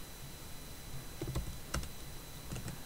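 Soft, scattered computer keyboard taps while typing code, several separate clicks and small clusters heard faintly over a quiet background hiss.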